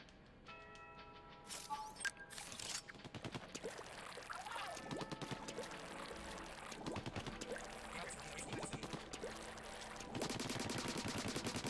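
Rapid bursts of ink-weapon fire in Splatoon 2 rattle in dense, repeated volleys with splashy impacts and game effects, loud and near throughout, with no talk over them.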